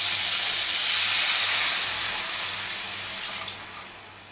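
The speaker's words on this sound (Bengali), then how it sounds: "এবার আমি জল দিয়ে দিচ্ছি।" Water pours steadily into a pan of spiced potato and cauliflower, a broad hissing rush close by that gradually softens over a few seconds, with no talking.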